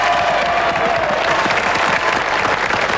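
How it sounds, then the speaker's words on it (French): An audience applauds two firefighter teams at a 1996 French televised event, steady and loud clapping filling the whole stretch without a break. "Applaudissements pour ces 2 équipes fort sympathiques."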